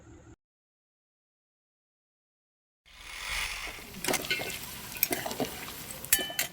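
Chopped garlic and ginger frying in a pan for coriander-leaf pickle, starting after near silence with a soft sizzle and clinking, scraping stirs of a utensil, close and without talk.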